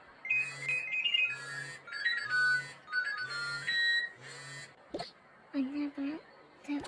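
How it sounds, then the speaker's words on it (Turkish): A phone ringtone in a Toca Boca video game plays as five evenly spaced bursts of bright electronic melody, fairly close. Other short game sounds follow, with a voice heard faintly. "Telefonum."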